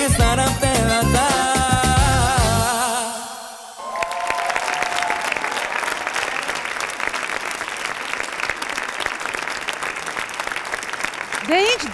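Audience applause erupts in a studio after a 16-year-old boy sings a love song at a singing contest. The song's tail fades out first, then clapping holds dense and steady for about eight seconds before a host starts to speak.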